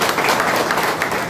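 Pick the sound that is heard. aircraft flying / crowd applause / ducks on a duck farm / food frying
crowd applause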